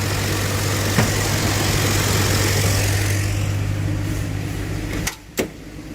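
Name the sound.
1982 Ford Granada car engine idling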